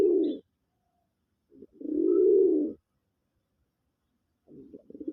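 A Raj Golla pigeon coos nearby in low, rolling bursts: a short call, a longer drawn-out coo, then a stuttering call after a pause, with near silence between.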